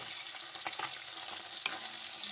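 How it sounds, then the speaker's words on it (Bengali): Tengra fish fry in a pan with a faint, even hiss of oil, marked by a few brief crackles and the occasional light scrape, with no voices over it. "দেখুন বন্ধুরা মাছ দিয়েছি, মাছগুলো প্রায় একদিক হয়ে এসছে এবং আরেক দিক আমি ভালো করে ভেজে নেব"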